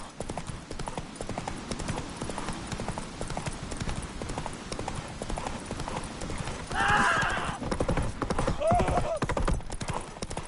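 Roach, Geralt's horse in The Witcher 3, gallops at a steady driving clip-clop throughout, with a snort or whinny breaking through near the end over dense game background noise.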